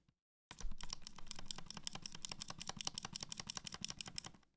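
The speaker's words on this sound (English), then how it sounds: "here is Kailh Gold's inside of a keyboard" Fast, steady typing on a keyboard with clicky Kailh Gold switches, crisp sharp clicks in a continuous rhythm, close up with no voices.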